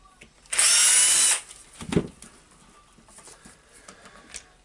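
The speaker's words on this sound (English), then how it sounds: "now I will open the back cover of the handle with the 3 screws up there" A power driver whirs in one loud, steady burst of about a second while taking screws out of the handle cover of a Makita HR2450FT rotary hammer, followed by light clicks and handling of the tool.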